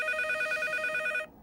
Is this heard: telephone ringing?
yes